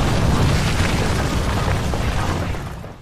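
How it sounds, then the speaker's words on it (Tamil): SpaceX Falcon 9 rocket exploding in mid-air about two minutes after liftoff on its way to the space station, a loud, continuous broadband roar that slowly fades toward the end. "ராக்கெட் புறப்பட்ட 2 நிமிடம் 19 வினாடிகளில் நடுவானில் வெடித்து சிதறியது"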